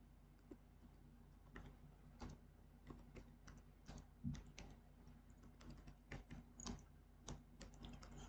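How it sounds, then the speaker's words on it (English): Clicks from a computer keyboard as a command is typed on a Linux system, coming as quiet, uneven bursts of keystrokes at close range with no speech. "type the command."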